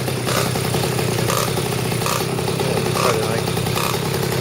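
A blue motorized scooter's small engine runs steadily and loudly up close, with a constant buzzy rattle from a loose plastic piece over the drone.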